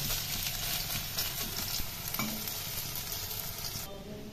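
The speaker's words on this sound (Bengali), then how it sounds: "আজকে আমার বকফুল এবং ধনেপাতার বড়া ভাজা হয়ে গেছে।" Bok flower and coriander leaf fritters sizzle in hot oil while a utensil stirs them. The dense, crackling fry noise continues throughout, with occasional soft scrapes and taps, and no voices.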